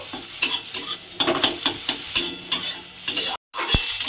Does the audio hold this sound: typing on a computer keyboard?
no